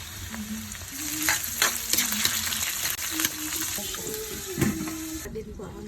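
Garlic, onion and pork liver stir-fry in a hot pan for pancit canton, a steady loud sizzle with repeated scraping stirs. A voice speaks briefly in the background.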